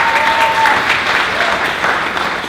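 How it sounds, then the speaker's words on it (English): Audience applause at the Ms. Wheelchair America 2019 speech night, loud and close, dense clapping sustained throughout with light crowd murmur. "So let's give a round of applause for sisterhood this weekend."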